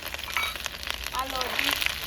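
Cumin, ginger and green chilli sizzle and crackle in hot oil in a kadhai, a steady close frying hiss with small pops throughout.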